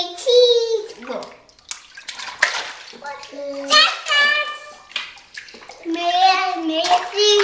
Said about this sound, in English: Look at your brother splashing.